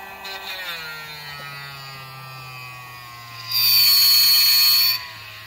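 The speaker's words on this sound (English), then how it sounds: "when you use a Dremel, you're dremeling." A Dremel rotary tool whines with a steady pitch that drifts down as it bears on a 1:18 scale figure, then a louder, harsher burst of grinding near the end before it eases off.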